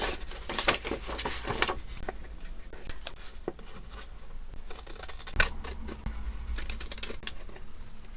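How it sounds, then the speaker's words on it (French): Scissors snip through a paper envelope flap for a junk journal, a run of close, irregular crisp cuts and paper rustles at moderate level. "Je garde mon rabat et je vais découper ce que je n'ai pas besoin."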